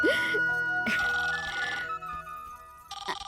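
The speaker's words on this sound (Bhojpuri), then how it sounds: "अरे बुआ, तनी फोन देखी था।" A telephone rings in a home, a trilling electronic ringtone in short bursts with pauses, heard indoors against faint background sound.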